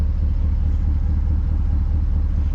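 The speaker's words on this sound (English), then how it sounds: "So it's decently loud when you get on the exhaust" Steady low exhaust rumble from a 2019 Chevrolet Silverado pickup idling, a constant deep drone held evenly throughout, close and alone without talk.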